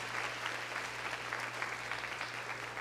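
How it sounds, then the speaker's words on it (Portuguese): Applause from a church congregation fills the whole stretch, a dense, even patter of many hands at moderate volume, with a low steady hum beneath. "Vamos aplaudir ao Senhor pela sua presença"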